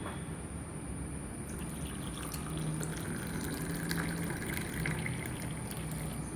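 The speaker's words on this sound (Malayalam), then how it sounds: "ചായ നമുക്ക് ആദ്യം ഒഴിക്കാം." Tea being poured into a cup while making a poori masala meal at home, a soft steady liquid stream running low and continuous for several seconds with no talk.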